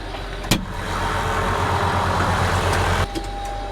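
A blue six-cylinder tractor engine idles high and steady nearby with a continuous low rumble, broken by a sharp knock near the start and another near the end.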